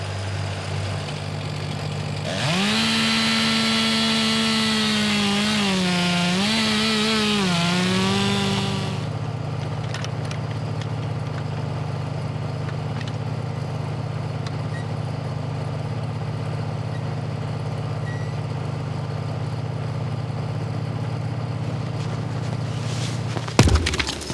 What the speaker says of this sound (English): I get the tractor started